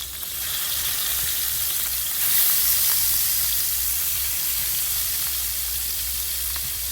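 Koral fish sizzles steadily in a hot pan, a continuous close hiss of frying with a brief louder burst partway through.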